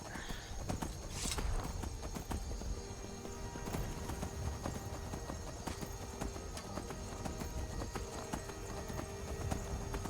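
Horse hooves clip-clop steadily at a walking pace, close and continuous on a hard surface for about ten seconds, with no talk over them.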